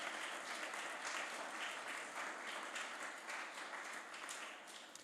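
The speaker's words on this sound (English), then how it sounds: "Can I have a huge round of applause for Sara as well for being our moderator tonight?" A large audience applauds steadily and loudly for the moderator at the close of an evening forum, a dense, continuous wash of clapping that fades slightly toward the end.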